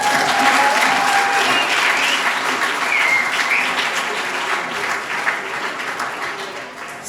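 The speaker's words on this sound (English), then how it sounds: "So give Fabian a round of applause" An audience claps for a speaker named Fabian, loud and sustained across the whole stretch. The applause thins only slightly toward the end, with faint voices mixed in.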